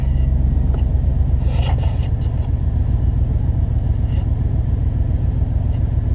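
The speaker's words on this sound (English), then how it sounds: "So I'm turning on my truck." A pickup truck engine idling after being started, steady low rumble that stays loud and even throughout with no talking.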